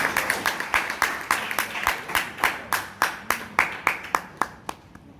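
Rhythmic clapping at a Toastmasters club meeting in Bangalore, a small audience honouring the evening's best speaker; sharp, evenly spaced claps, close and moderately loud, sounding like a few people clapping together.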